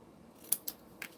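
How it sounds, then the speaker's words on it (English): Scissors angle-cut a greeting card piece, giving three quick, crisp snips close by in a quiet room. "I'm going to get my scissors here, and I'm going to angle cut"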